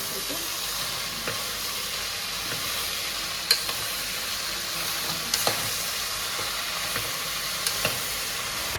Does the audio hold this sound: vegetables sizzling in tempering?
yes